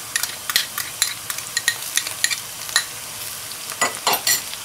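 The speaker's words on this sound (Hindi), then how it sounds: "अब इसे भी ज़रा अच्छी तरह मिक्स कर लेते हैं।" Ginger and garlic stirred into softened sautéed onions in a pan, with a steady gentle sizzle under repeated quick scraping and clinking strokes of the spoon against the metal, close by with no voices.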